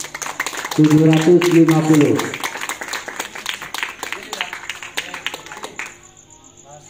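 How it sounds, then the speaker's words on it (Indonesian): An audience claps for the winning group at a quiz competition in an Islamic boarding school, a burst of scattered, close claps under a speaking voice before fading to near silence. "Tepuk tangan untuk grup A"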